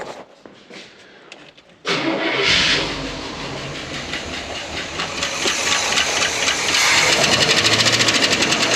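A 1971 Cadillac engine with a small vacuum leak cranks briefly, then catches abruptly and settles into a loud, close, rapidly pulsing idle that grows steadier and a little stronger.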